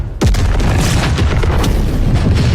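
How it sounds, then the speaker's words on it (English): A sudden loud anime explosion bursts out, then a heavy rumbling roar with crackling debris continues without pause. "great looking effects on this explosion"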